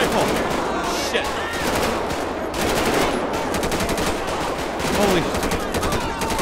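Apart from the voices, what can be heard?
rifle gunfire in the video game GTA V (LSPDFR)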